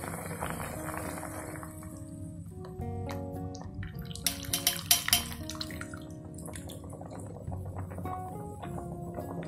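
Beaten egg poured slowly through a strainer into boiling broth for a soup for elderly diabetics, heard as soft trickling and bubbling with light clinks of a pan and utensil under a quiet kitchen hum.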